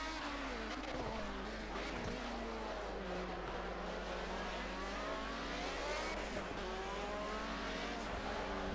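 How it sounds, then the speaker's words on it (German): A historic race car in Project Cars revs hard at the start with wheels spinning, a constant loud engine drone with wavering pitch throughout. "Jetzt musste ich auch kurz zum Gas geben. Die Räder komplett durchgedreht."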